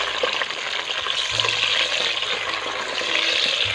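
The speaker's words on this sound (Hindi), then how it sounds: "सबसे पहले हम शिमला मिर्च को हल्का सा फ्राई कर लेंगे" Bell peppers (capsicum) frying lightly in a pan, a steady broadband sizzle with faint crackles running continuously throughout, close and moderately loud, with no voices.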